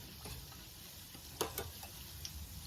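Bofroat, African fried doughnuts, bubble softly in hot oil while being turned, with a quiet continuous sizzle and a few light clicks and taps from the utensil; no one speaks.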